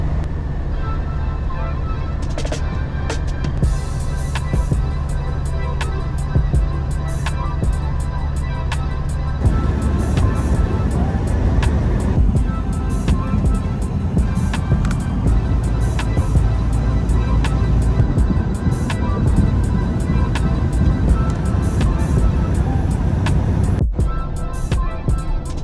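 Semi truck of an owner-operator driving on the road, a steady loud drone of engine and road noise with cab rumble throughout and a brief dropout near the end.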